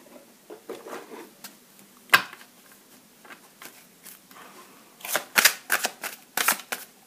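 Tarot cards are handled and shuffled close up, with soft scattered flicks building into quick sharp riffling bursts near the end.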